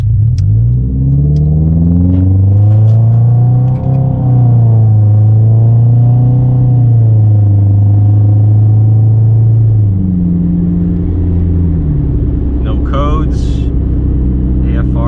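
A Subaru Impreza engine idles and revs smoothly up and down, steady and close, with no deep exhaust rumble.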